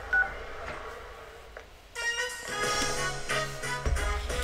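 A phone text-message alert from the video game Persona 4 Golden chimes in as a bright, layered electronic jingle, cutting in sharply halfway through after quiet background ambience.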